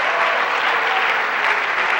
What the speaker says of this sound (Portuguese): You can applaud Jesus, applaud Him.